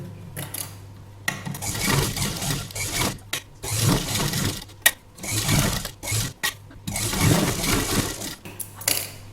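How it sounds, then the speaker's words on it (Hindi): A sewing machine stitches fabric onto a canvas backing for a neckline design, its motor running in several bursts of steady whirring with short pauses between runs, close and fairly loud with no talking. "अब हम इसके कपड़े को सिर्फ इस कपड़े को इस कैनवास के ऊपर सिलाई लगा लेंगे।"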